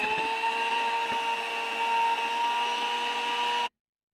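A kitchen blender whirs steadily, whipping sour cream into cream for a homemade honey cake. The loud, even motor whine holds for about three and a half seconds, then cuts off abruptly into silence.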